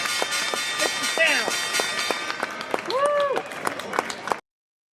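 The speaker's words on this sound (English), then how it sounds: "We're clapping." A few people clap in a sports radio studio, with distinct sharp claps in a loose, uneven rhythm, close to the microphone, while voices whoop and talk over them before an abrupt cutoff.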